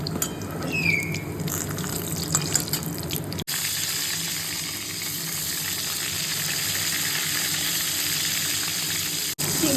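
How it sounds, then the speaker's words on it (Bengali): Steady, dense sizzling of round eggplant slices frying in hot oil, continuous and close, with a brief break partway through and faint clinks early on. "বেগুন ভাজা চাপিয়েছি"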